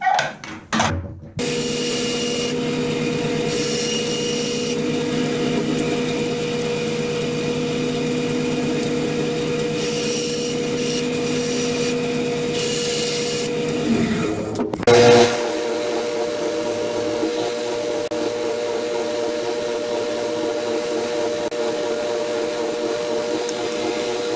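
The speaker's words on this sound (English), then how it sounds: "I'm going to cut this one and the other one on the bandsaw" A bandsaw cuts wooden pieces for a turkey call box, running steadily and loudly for about thirteen seconds with a whining blade tone, then drops to a lower, steadier hum after a brief knock.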